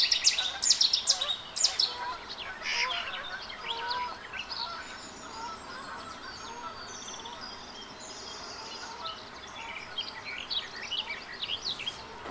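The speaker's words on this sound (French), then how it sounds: "Le pinson des arbres, ici un mâle en plumage hivernal." A male common chaffinch in winter plumage sings bright descending trills in short bursts, repeated with pauses, against a quiet garden background with other faint chirps.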